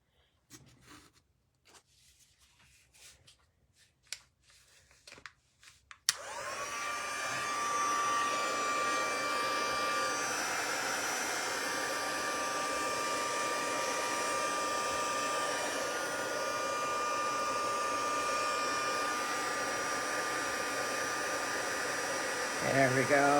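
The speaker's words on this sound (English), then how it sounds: "And my heat tool." A heat tool blows hot air for crafting, starting with a sudden click and settling into a steady, close whooshing hum that runs unbroken for over fifteen seconds, preceded by a few soft handling taps.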